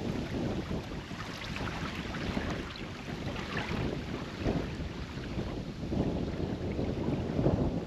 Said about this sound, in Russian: Я очень надеюсь, что затихнет ветер